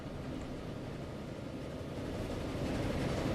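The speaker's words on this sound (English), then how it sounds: "Our passenger trains, like the Dorking train here" A passenger train in the Transport Fever video game rolls along with a steady, continuous low rumble that swells slightly toward the end, with no talking over it.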